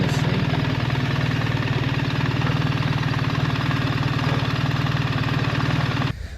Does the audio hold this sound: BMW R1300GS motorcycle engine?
yes